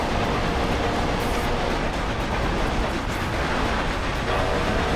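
A train rumbles past in the racing game Forza Horizon 2 on Xbox One, beside a gravel road lined with cypresses. The sound is a loud, steady, dense roar that fills the whole clip without letting up.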